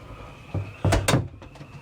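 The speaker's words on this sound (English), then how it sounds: "Let me close the door." The cabin door of a Heyman 42PPH decksaloon cruiser is pulled shut aboard the boat. It gives a short series of close wooden knocks and a solid thud, then a quieter click.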